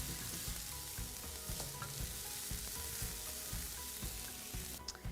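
Onions and cumin fry in a pan over medium heat for paneer bhurji, with a dense, even sizzle and periodic stirring scrapes, close and without speech, faint tonal sounds behind.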